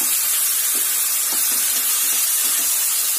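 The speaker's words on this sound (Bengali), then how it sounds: "এবার আমি আমাদের যে মাংসটা ম্যারিনেট করা ছিল সেই মাংসটা আমি এর মধ্যে দিয়ে দেবো" Marinated chicken added to a hot pan for a Bengali Golbari-style chicken curry, giving a loud, dense, continuous hiss of sizzling oil and steam with faint stirring knocks, close up and without speech.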